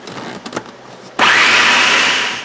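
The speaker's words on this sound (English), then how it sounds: "And again, food processor magic." Food processor whirring loudly as it blends a homemade fish cake mixture with egg binder, starting abruptly after some quiet clatter and holding a steady, close, bright motor roar that eases slightly toward the end.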